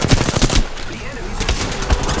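Rapid automatic gunfire in Apex Legends, a burst of close, loud shots at the start, then another volley near the end, with a brief lull between.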